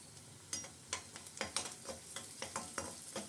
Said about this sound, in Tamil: இப்போ வெங்காயம் இஞ்சி பூண்டு பேஸ்ட்டு போட்டு வதக்கியாச்சு